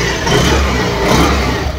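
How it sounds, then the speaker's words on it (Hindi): A Honda Activa 6G BS6 scooter engine runs steadily after a self start, a continuous close, loud motor drone with no talk. "पा रहे हैं गाड़ी स्टार्ट कंडीशन में है"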